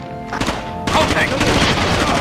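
Video game gunfire erupts as a loud burst of rapid shots, a dense fusillade that fills most of the short clip after a brief quieter lead-in, with voices faintly under it.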